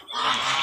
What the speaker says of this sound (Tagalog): halo-halo na po yung ating mga bibi ngayon dito at mga gansa